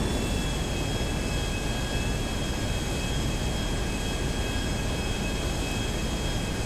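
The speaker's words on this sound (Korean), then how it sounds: "저 비행기 너무 빨라" Jet airplanes roar through the sky in the video game GTA5, a steady, continuous engine drone with a faint high whine, fairly loud and constant throughout with no voices.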